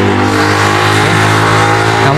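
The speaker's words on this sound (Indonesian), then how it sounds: "di sini pinggir jalan besar, jadi suara-suara mobil itu sangat keras sekali dari arah kiri" Loud traffic on a busy main road, cars rushing past close by in a continuous roaring wash of engine noise with no break and no speech.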